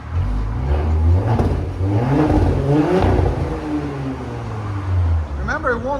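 A Porsche Cayenne S 2.9L twin-turbo V6 on an aftermarket exhaust revs repeatedly up toward its 3,500 RPM limit, loud and close, a rising and falling growl, with people talking over the engine.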